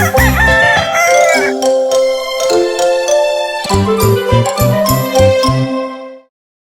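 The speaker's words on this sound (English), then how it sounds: "Hear the cockle-doo of the rooster loud everywhere, like the ringing of alarms." A loud, close cartoon rooster crows repeatedly over bright tinkling chimes and a cheerful nursery-rhyme musical backing.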